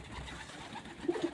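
Pigeons kept for a flying tournament give a couple of soft, short coos near the end, faint and distant against a quiet background hum.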